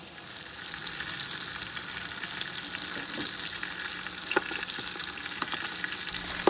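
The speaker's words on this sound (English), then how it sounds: "then I'm just gonna sear my meat off" Meat sears in a hot pressure cooker, giving a steady, close hiss of sizzling fat that continues throughout, with a few faint clicks and pops.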